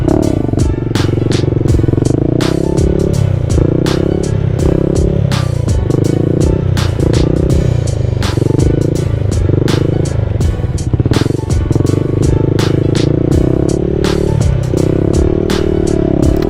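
Honda Grom motorcycle engine revving hard and continuously during wheelie attempts, loud and close, with repeated throttle surges and gear-change dips and no talk.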